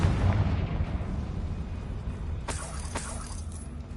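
A Confringo fire-blast spell in the video game Hogwarts Legacy erupts as a loud rumbling explosion that rolls on, with sharp crackling bursts near the end and no talking.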